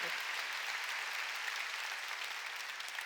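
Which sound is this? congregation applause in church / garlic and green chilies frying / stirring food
congregation applause in church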